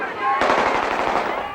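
Blank gunfire from automatic weapons on the action film set of The Hunted: a dense, loud, rapid burst of shots that swells sharply and sustains, with a voice faintly underneath.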